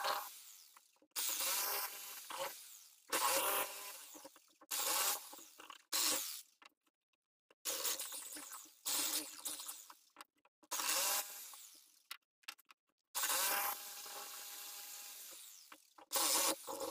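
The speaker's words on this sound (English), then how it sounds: "So I'll cut it up here with this jigsaw, glue it, and then put it on my knife." A jigsaw cuts wood for knife handles in a series of loud, close bursts, each buzzing cut separated by brief pauses, about ten runs in total with no talking.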